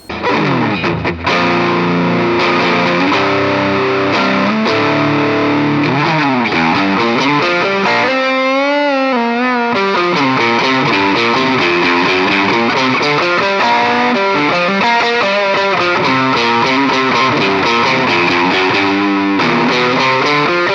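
Passion BPS-RG270 electric guitar played through heavy distortion on the combined middle and neck pickup setting, loud sustained chords and bending riffs ringing continuously with no voice over them.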